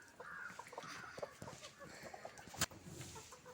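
Hens and a rooster kept together in a backyard coop, with soft scattered clucks and low chatter over a steady yard hum, one sharp clack near the end.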